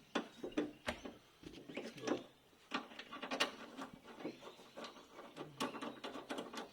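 T25 screws being taken out of a VW Passat B6 head unit, with faint close-up clicks, ticks and small scrapes of a tool against plastic and metal, no talking.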